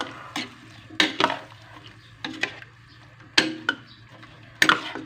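A spoon scrapes and knocks against a pot while string beans and squash are mixed in coconut milk, giving a handful of separate clinks spaced over several seconds above a low steady hum.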